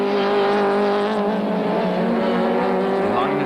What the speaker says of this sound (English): Race cam action from the Sassel BMW of two-time touring car champion Briggs